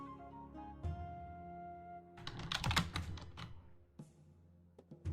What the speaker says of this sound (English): When I negotiate, I use my keyboard, as you can probably hear.